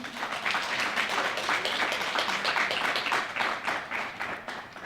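Applause from the audience at the TFLA awards ceremony, a moderately loud patter of many hands clapping with a fairly even rhythm that fades slightly near the end.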